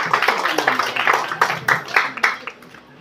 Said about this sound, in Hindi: मैं चाहूंगा जोरदार तालियों से विजेंद्र सौरभ